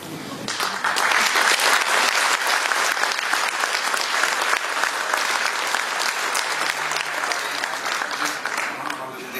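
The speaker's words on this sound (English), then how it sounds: "Norwegian audiences very seldomly give applause in the middle of a speech, let alone giving standing ovations" Sustained audience applause fills a speech hall in Norway, a dense, even wash of many hands clapping at steady loudness throughout.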